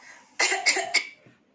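A single person coughs during an iPad recording session, one close, sharp burst followed by a couple of quick repeat hacks, then a soft throat sound fading into quiet room tone.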